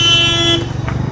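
A vehicle horn blares loud and close on a road for about half a second. The rumble of passing engine traffic continues after it.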